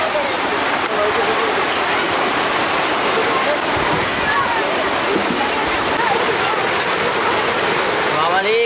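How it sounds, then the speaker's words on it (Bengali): Heavy rain pouring down in a village during outdoor cooking, a dense, loud, steady roar of rainfall with no break, and a person speaking briefly over it. "বাবারে কি বৃষ্টি"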